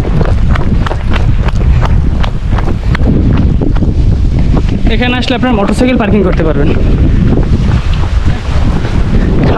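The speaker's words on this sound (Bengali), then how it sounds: "কি ঠান্ডা বাতাস ভাই" Cold wind gusts across a hilltop in Mirinja Valley, Bandarban, roaring loudly and steadily against the microphone the whole time, while someone talks over it.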